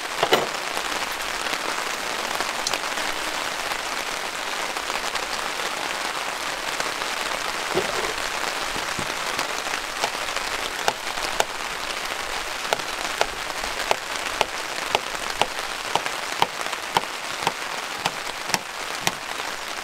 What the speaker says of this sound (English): A little bit of rain happening now, as you can probably hear on the tarp.